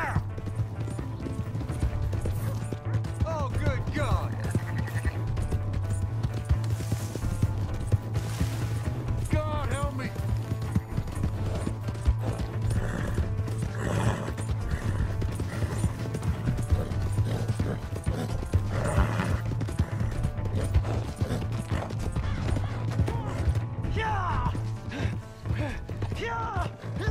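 Horse in Red Dead Redemption 2 clip-clopping along with creaking tack and gear, an occasional whinny breaking through, while people talk and shout over the steady hoofbeats.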